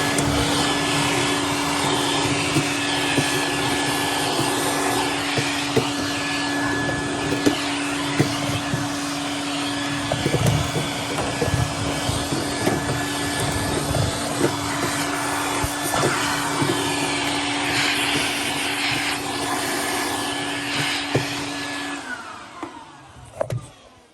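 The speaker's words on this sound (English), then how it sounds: "I'm gonna vacuum it all up." A vacuum cleaner runs loud and close, its steady motor whine broken by rough sucking and rattling as it cleans debris from the condenser of a Sub-Zero model 550 refrigerator being rebuilt, cutting off near the end.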